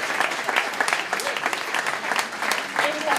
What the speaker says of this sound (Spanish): Me gustaría que le dierais un fuerte aplauso.